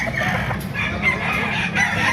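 Several roosters crow at once at the Baliuag pet market in the Philippines, their calls overlapping against a constant din of clucking fowl.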